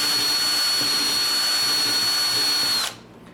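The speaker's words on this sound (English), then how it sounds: "just carefully using my 3/8 drill on slow speed, I can just clean out these holes" A 3/8 inch power drill running at slow speed cleans out holes in an antique table in a woodworking shop, giving a steady close whine with a thin high tone that cuts off abruptly near the end.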